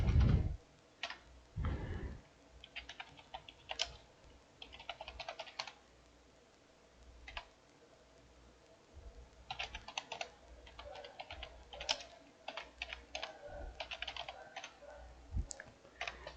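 Typing on a computer keyboard while filling in form fields for a new client, with scattered clusters of quick clicks and bursts of keystrokes interspersed with short pauses, close and fairly quiet, with no voices.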